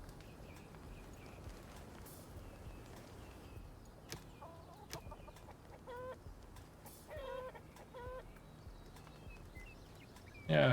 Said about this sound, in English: I hear a lot of chickens.